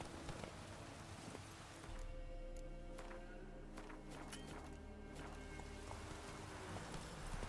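Roach the horse galloping in The Witcher 3, a steady run of hoofbeats under a low game soundtrack, fairly close and continuous, with scattered sharper clicks and no talk.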